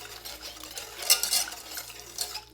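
A spoon stirs mulled beer with sugar and ginger powder in a pot, giving soft scraping and a few clinks against the metal, close and quiet, with no talking.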